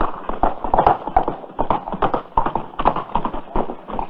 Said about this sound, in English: Look at that horse run.